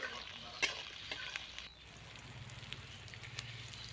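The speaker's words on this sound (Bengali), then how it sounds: "বেগুনগুলোকে 4-5 মিনিট মতো ভালো করে লাল লাল করে ভেজে নিতে হবে" Sliced eggplant fries in a pan, a steady soft sizzle with occasional crackles and sharper pops, close and moderately quiet, with no voices.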